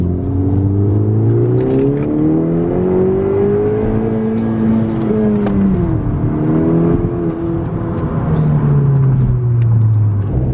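A 10th-generation Honda Civic Si accelerates hard in second gear, its engine note climbing steadily and loudly with a smooth, continuous rev and a brief dip at a shift point, with no talk over it.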